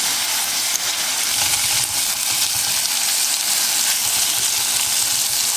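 Pork belly pieces stir frying in a hot pan, giving a loud, steady sizzle and hiss that runs unbroken throughout with no talk.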